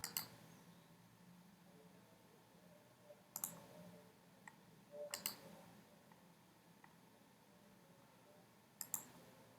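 A computer mouse gives several sharp, faint clicks spread out at irregular intervals, some in quick pairs, in a quiet room with no talk.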